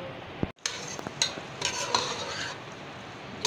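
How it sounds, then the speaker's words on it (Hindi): Chicken pieces for shashlik are stirred in a hot pan, with a spatula scraping and clinking against the metal over a soft sizzle of frying oil, in close, intermittent strokes. "इसको भूनेंगे अभी अच्छी तरह।"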